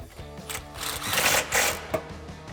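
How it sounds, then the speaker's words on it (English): Rapid ratcheting clicks come from a 13mm socket on an extension as it tightens exhaust bracket bolts under a 2018-2019 Mustang GT during a Pypes cat-back install, heard close up as a fast mechanical chatter with brief pauses and no talking. "grab your 13 socket, and I'm using an extension, of course, over top of that sway bar to tighten them down"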